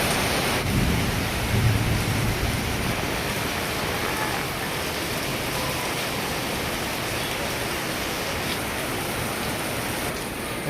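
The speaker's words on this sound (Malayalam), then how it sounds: "മഴയെന്ന് വെച്ചാൽ നല്ല മഴ." Heavy rain pours down steadily on a day out in Malayattoor, a loud, dense, unbroken wash of sound with low thunder rumbling beneath it throughout, and no voices.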